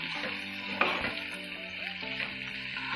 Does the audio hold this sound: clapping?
no